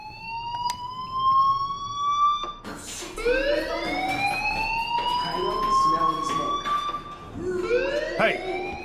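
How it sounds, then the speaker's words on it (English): An electronic fire alarm in the video game Life is Strange rings out with rising, wavering tones that repeat and overlap, loud and persistent, with a voice speaking faintly underneath. "do you hear that fire alarm?"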